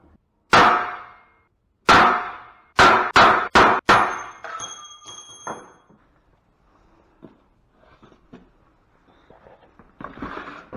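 A hammer stamps numbers into a brass die, six sharp ringing metal clangs in an uneven series, close and loud, then faint handling clinks and rustles as the piece is moved.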